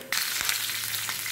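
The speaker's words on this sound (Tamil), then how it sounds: "இப்போ கடுகு வெடிக்கிறது, அதில் உளுத்தம் பருப்பை போடுவோம்." Mustard seeds and urad dal crackle and sizzle in hot oil while tempering for a Tamil kootu, a steady close frying hiss with faint popping throughout.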